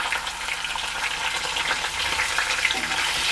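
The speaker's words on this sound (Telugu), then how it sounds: "ఉల్లిపాయ వేసుకొని బాగా బ్రౌన్ కలర్ వచ్చే వరకు వేయించుకోవాలి." Onions with whole spices fry in hot oil, a steady close hiss and crackle that holds at one level throughout with small bright pops scattered across it.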